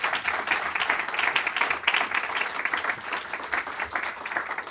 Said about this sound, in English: Big round of applause for our panel here